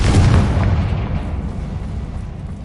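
A Confringo blasting curse exploding in Hogwarts Legacy, a loud booming blast up front that fades into a long, rumbling decay with no talking.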